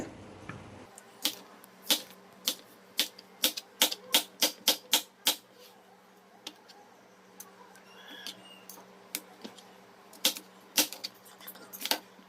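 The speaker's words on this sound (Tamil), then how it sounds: "வெள்ளரிக்காயெல்லாம் நல்லா பொடியாக கட் பண்ணிட்டோம்" A knife chops cucumber finely on a cutting board with sharp, close taps, sometimes in quick runs and sometimes spaced apart, over a quiet background with no talking.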